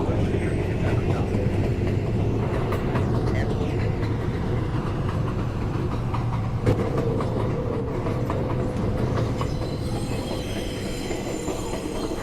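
A New York City subway 1 train runs downtown toward Rector Street, a loud, continuous rumble of wheels on rails with metallic squealing and clatter, heard from inside the car.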